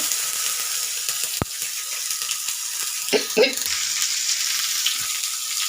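Chopped medium tomatoes fry in oil with a constant bright sizzle, a couple of scraping stirs and one sharp click, close up and with no talk.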